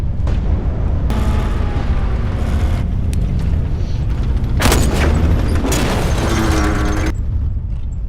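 Heavy explosion as a soldier's rifle knocks out a tank in a battle scene, a loud booming rumble followed by a second bright, crackling blast with debris and a long roaring tail.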